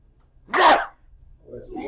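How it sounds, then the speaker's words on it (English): A single loud sneeze bursts out in a classroom physics lab session, followed by quieter talk from another voice. "I've got to sneeze"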